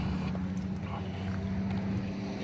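A custom 2019 Kawasaki Teryx 4 LE fitted with a Trinity exhaust idles in a steady, low, continuous drone with a rumbling undertone and some wind noise.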